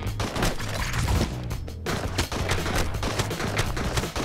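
Rapid gunfire in LEGO Avengers, a steady stream of shots with a short lull partway through, over busy game sounds.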